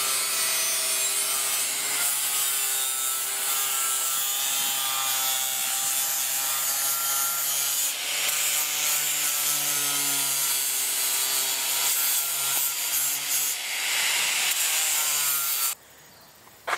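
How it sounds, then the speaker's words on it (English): Steel tube being cut to length for a Studebaker gasser build, a steady grinding, rasping cut with ringing metallic overtones lasting most of the span before stopping abruptly near the end. "our next step is to cut out the tube to the right length"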